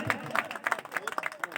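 An audience at a Chikhli nashist poetry gathering claps in steady rhythmic bursts, about three or four per second, with babbling voices underneath.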